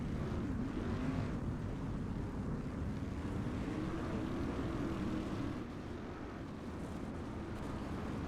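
Dense, steady roar of race car engines on a dirt track at Knoxville Raceway in the iRacing video game, continuous and loud with a low rumbling drone, easing slightly toward the end.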